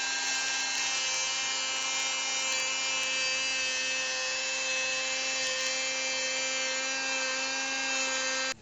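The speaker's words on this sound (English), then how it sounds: "it'll ride like a sled along while I'm making the cut, just to make sure that the router doesn't fall down on this end." A router makes a cut in wood while shaping a wooden lazy Susan bearing, a loud, continuous high-pitched whine that holds steady for the whole pass and drops off abruptly at the end.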